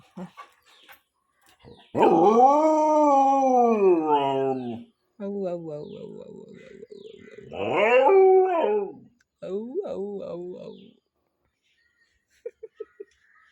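A dog howls in long drawn-out wails, broken by short whimpers and pauses, close and loud, with a few faint clicks at the end.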